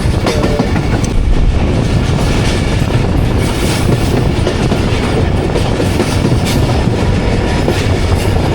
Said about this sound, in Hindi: और आप देख लो कि ट्रेन पास हो रही है 40 की रफ्तार